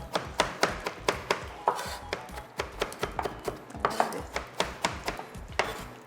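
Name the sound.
chopping celery and chive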